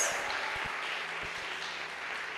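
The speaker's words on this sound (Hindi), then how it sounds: "आइए एक जोरदार ताली बजाएंगे यीशु मसीह के लिए।" Congregation at a Christian worship service in India applauding, a steady wash of clapping that holds throughout at moderate level with no speech.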